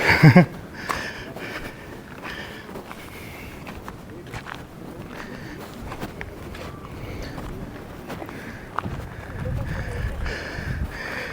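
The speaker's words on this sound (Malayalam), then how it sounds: "നല്ല കാറ്റ് ഓ സൂപ്പർ" Gusty wind buffets the microphone in a continuous rushing roar, with people talking and occasional footsteps underneath.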